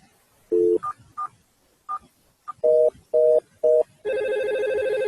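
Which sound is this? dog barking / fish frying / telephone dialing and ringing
telephone dialing and ringing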